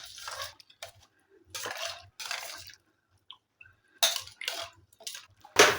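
Rice being stirred with hot water, turmeric and salt in a pot, giving wet squelching, scraping bursts in irregular spurts separated by short silences, close up.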